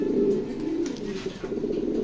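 Racing pigeons in a loft coo steadily in a low, rolling murmur that runs throughout, with a few softer calls layered on top at close range and no voices.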